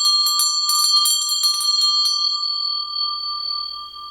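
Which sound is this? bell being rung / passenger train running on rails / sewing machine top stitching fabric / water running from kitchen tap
bell being rung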